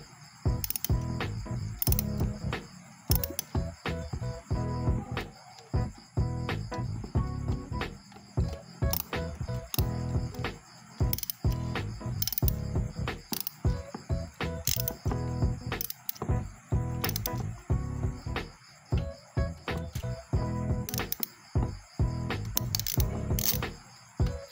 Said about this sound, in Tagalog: Ipasok nyo lang dito sa butas ng side fairing sa ilalim yung mahabang extension para matanggal yung nasa